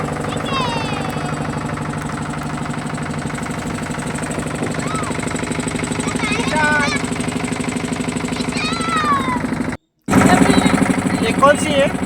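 A boat engine chugs steadily on the river at Varanasi, a continuous rhythmic throbbing drone close by, with faint voices over it and a brief cut near the end.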